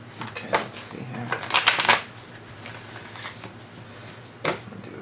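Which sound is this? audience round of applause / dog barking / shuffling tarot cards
shuffling tarot cards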